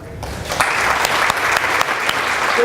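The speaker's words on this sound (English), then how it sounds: "round of applause" A round of applause from a business coaching audience in Miami rises abruptly after a short pause and holds as a steady, close clatter of many hands, with individual sharper claps standing out.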